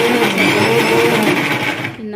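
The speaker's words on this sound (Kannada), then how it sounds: "ಇವಾಗ ಮಿಕ್ಸಿ ಜಾರಿಗೆ ಮಸಾಲೆ ಎಣ್ಣೆ ಹಾಕಿ ಇದನ್ನು ಮಿಕ್ಸಿಗೆ ಹಾಕ್ಕೊಳ್ಳೋಣ." Kitchen mixer grinder whirring as it grinds masala for Mangaravalli chutney, a loud, steady motor whine that winds down just before the end.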